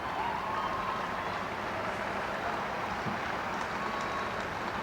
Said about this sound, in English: And getting a good round of applause from the crowd.